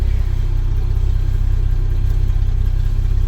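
Steady low rumble of a 1972 Chevy truck engine running in first gear, a close, even drone with a faint mechanical whir and no talking.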